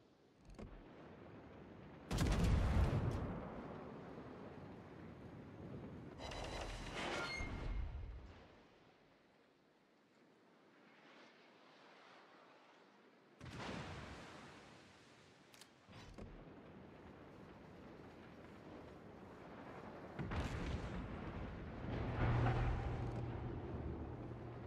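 Main guns of the battleship Giulio Cesare fire in a naval video game, several heavy booming salvos spaced seconds apart, each a loud broad blast that decays into rumble between shots.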